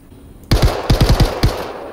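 Small pistol fired in the space shooter game Star Citizen 3.6: about six loud, sharp shots in an irregular quick sequence, close and crisp, with no talking over them.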